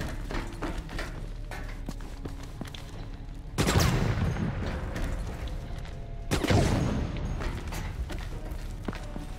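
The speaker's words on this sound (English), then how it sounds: "What the fuck are these guys shooting at now?" Gunfire crackles in the Resident Evil Operation Raccoon City video game, with two loud bursts of rapid shots and booms standing out against a constant mechanical background, no talk during the clip.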